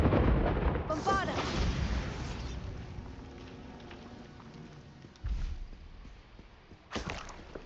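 Booming blasts from the Bombarda explosion spell in Hogwarts Legacy erupt with a heavy rumble, fading into a long rolling tail before two further sharp impacts land, all fairly close.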